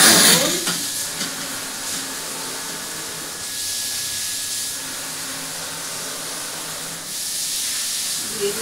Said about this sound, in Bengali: তো মশলা আমার কষানো হয়ে এসছে, দেখো তেল ছেড়ে এসছে।